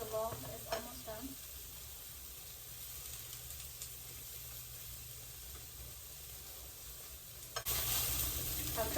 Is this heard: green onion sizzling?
yes